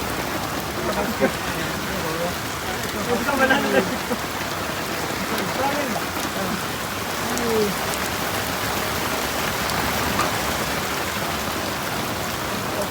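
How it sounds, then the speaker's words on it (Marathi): Steady, dense heavy rain pours down with a constant hiss, with hail mentioned, while quiet voices speak faintly underneath now and then. "पाऊस काय थांबत नाही असं वाटतंय. भरपूर पाऊस आहे."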